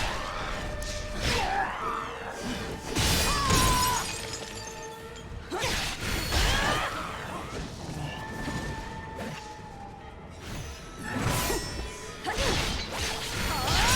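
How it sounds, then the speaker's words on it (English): In the video game Wo Long, the morale-breaking effect gives a sharp glassy shatter, repeated several times among bursts of crashing combat sounds and ringing tones. "That shattering sound when you break some of the morale or whatever is also very satisfying"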